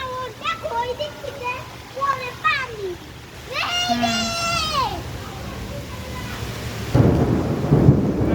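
A heavy thunderstorm with rain rumbles and pours, while children's voices chatter and call over it, before the rain swells into a louder, denser rush toward the end.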